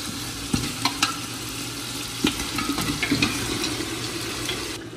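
Goat trotters go into hot oil in a pan already holding onions, tomatoes and garlic-ginger paste, giving a steady near frying sizzle with a few stirring knocks and clinks, no voices.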